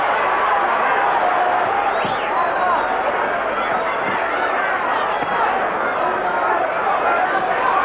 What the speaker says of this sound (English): The crowd reacted to that.